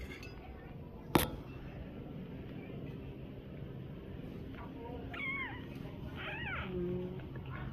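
A kitten being given milk lets out two or three short, thin meows in the second half, fairly close, over a steady background hiss and one sharp clink near the start.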